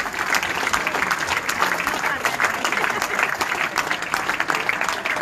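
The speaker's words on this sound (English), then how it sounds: "Give David a good round of applause." A crowd at a football club's player of the season awards night gives a continuous, even round of applause, dense clapping held at a steady level from start to finish.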